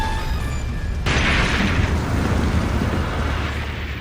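Explosion at a warehouse holding 2,700 tons of ammonium nitrate, set off by fireworks: a sudden heavy boom that swells into a sustained, loud rumbling roar after a brief stretch of crackling.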